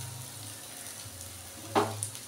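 Bitter gourd sizzling in a pan on the stove for a bitter mung dal. A low, even frying hiss runs throughout, with one brief louder clatter near the end and no voices.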